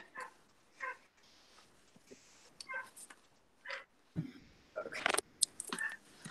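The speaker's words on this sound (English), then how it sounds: "My dog is barking." A dog barks and yips in short bursts, somewhat distant and quiet at first, with a louder flurry near the end.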